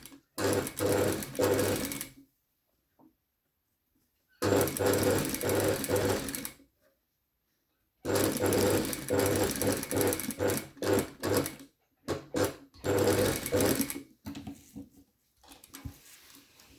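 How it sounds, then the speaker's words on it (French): An industrial sewing machine stitches a pocket flap in several bursts of rapid, loud mechanical whirring, separated by silent pauses and followed by shorter stop-and-start runs. "Et là, je vais piquer mon rabat à 5 mm."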